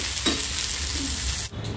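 Cluster beans (gavar) stir-fried in a pan, giving a steady close sizzle with scraping stirs and a brief clatter near the start; no one speaks.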